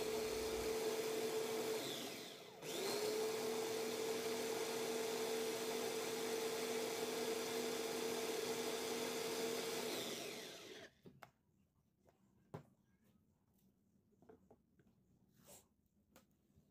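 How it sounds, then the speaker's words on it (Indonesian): A kitchen blender whirs steadily as it purées pineapple for jam, running loud and continuous for about ten seconds with a brief dip partway through, then switching off to leave quiet room noise and a few small clicks. "ini nanasnya kita blender semua ya"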